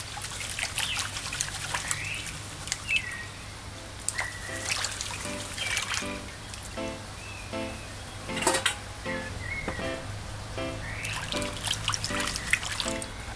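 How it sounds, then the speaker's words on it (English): Rice is washed by hand in a bowl of water, with soft sloshing, trickling and splashing that comes in irregular bursts as grains are swirled and rubbed, close and fairly quiet. "Rotate it from side to side and around. Wash rice properly."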